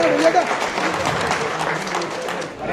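A crowd of residents claps for small children donating money at a local fundraising gathering, dense continuous applause, loud and close, with a voice running over it.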